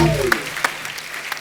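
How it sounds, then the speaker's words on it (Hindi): Scattered, thin clapping from an audience with a few sharp individual claps, fading under a low background murmur. "जोरदार तालियां हो जाए"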